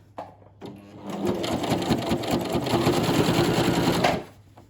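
A sewing machine stitching a fabric face mask, a rapid, continuous mechanical whir of the needle that starts after a couple of faint clicks, runs loud and close for about three seconds, then stops abruptly.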